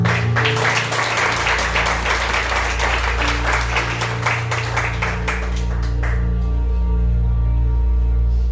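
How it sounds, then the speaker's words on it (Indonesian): A church congregation applauds during a worship service, a loud, dense wash of clapping that carries for about six seconds before fading out. "Sekali lagi berikan tepuk tangan yang terbaik untuk Tuhan kita Yesus."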